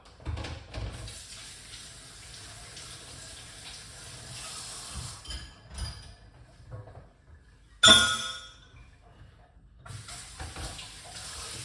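Water pours steadily with a hissing, splashing rush into a blender holding green grapes, pausing briefly and then resuming, fairly close.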